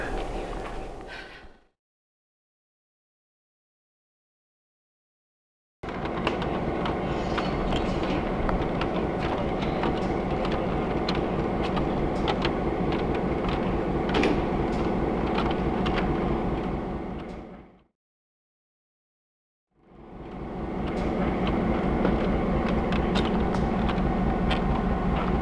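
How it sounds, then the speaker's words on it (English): Rumbling, rattling run of the Skunk Train near Fort Bragg, California, pulling out along the track through redwoods, loud and steady with two stretches of complete silence and people's voices faintly mixed in. "Skunk train's ready to pull out. Going, going, going down the track."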